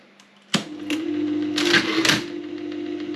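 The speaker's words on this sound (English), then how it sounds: "This here are the levers which unhook the upper part." The levers of an Olympia SG 3 typewriter are worked to unhook the upper part of the machine, giving a sharp metallic clack followed by further rattling clicks and a steady mechanical hum, close and fairly loud.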